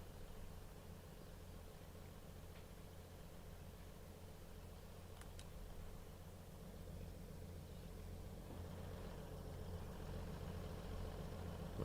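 A Class 158 diesel train idles in Train Sim World 3 on the Midland Main Line, giving a steady, even low engine rumble with a faint hiss on top. It carries on unbroken throughout, with no talking.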